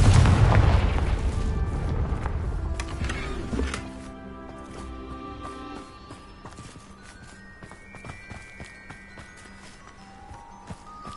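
Confringo spell explosions in the Hogwarts Legacy video game: a loud booming blast opens, then rumbles and fades into quieter lingering effects and scattered small hits.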